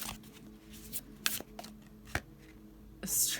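A deck of tarot cards being shuffled during a reading, soft close riffling and tapping of cards, quiet and intermittent, ending in a brief fluttering burst.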